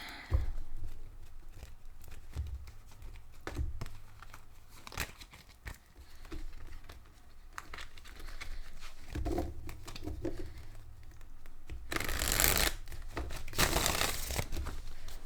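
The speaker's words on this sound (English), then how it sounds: "Let's do some shuffling for Taurus." Tarot card shuffling, with rapid papery riffles and crinkly flutters in bursts, growing louder and denser near the end.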